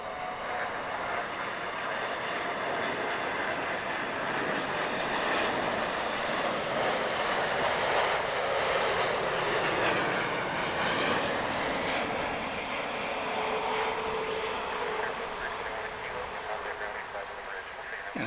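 Jet airliner lifting off at DFW International Airport, a broad, sustained roar at moderate distance that swells and slowly shifts pitch as it climbs, with people talking over it throughout.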